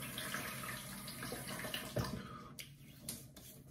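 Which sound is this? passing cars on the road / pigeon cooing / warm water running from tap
warm water running from tap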